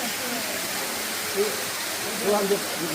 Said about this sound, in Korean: 충북 미동 수목원 인공 폭포입니다